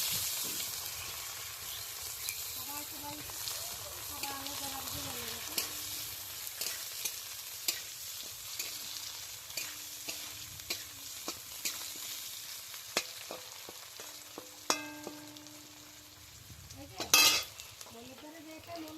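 Chopped onions fry in oil for a fish and potato curry, with a steady sizzle and repeated scraping and clinking stirring strokes against the pan, close up, with a faint tonal hum in the background.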